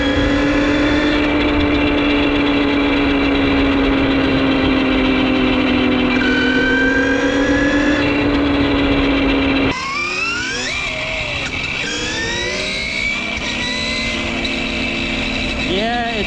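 A homemade six-speed electric dirt bike whines continuously while riding, its motor pitch rising and falling with speed changes, loud and close, with wind rush and a voice speaking over it.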